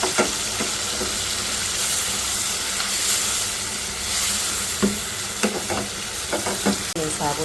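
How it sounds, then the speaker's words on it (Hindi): Potatoes and peas fry with masala in a pan, a close, steady sizzle broken by scraping strokes of a stirring spoon, with no talking over it. "1 से 2 मिनट में इस मसाले के साथ आलूओं को भूनूंगी।"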